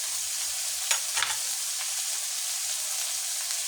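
Biryani being stirred in a pan after ghee is added, a steady soft sizzle with a few brief scraping strokes near the start, heard alone at close range.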